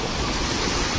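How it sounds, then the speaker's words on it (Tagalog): Rough, agitated sea surf pounding near a coastal house, a dense continuous roar of breaking waves with wind buffeting the microphone, steady and loud for the whole second with no voices. "Grabe, naggagalit yung mga dagat, oh."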